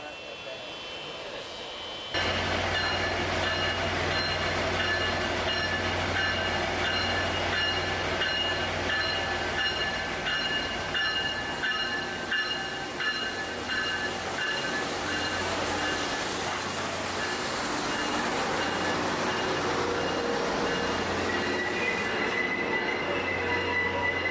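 A Tri-Rail passenger train in Miami rumbles steadily past close by, wheels squealing on the rails under a continuous loud roar.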